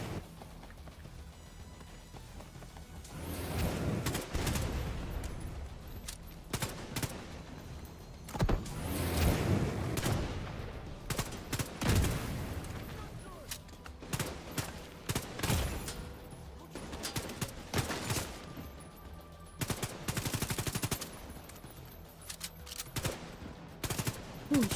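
Strafing gunfire in The Division 2 comes as bursts of rapid automatic fire that rise and fall over about twenty-five seconds, dense and moderately loud, with engine-like rumble between the volleys.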